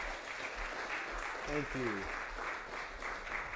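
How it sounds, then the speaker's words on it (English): Audience applause for a performing artist at a poetry recitation competition, a steady wash of clapping through the whole stretch, with a brief spoken thanks partway through. "Can we give her a round of applause, please?"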